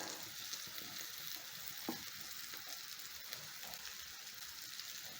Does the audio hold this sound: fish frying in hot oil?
yes